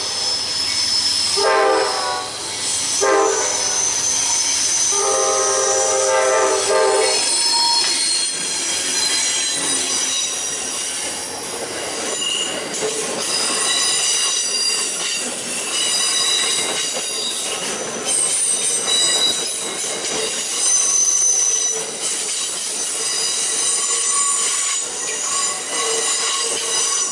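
An Amtrak passenger train rolls past in a loud, close rush, its horn sounding in several long blasts early on while wheels squeal and rail joints clatter throughout.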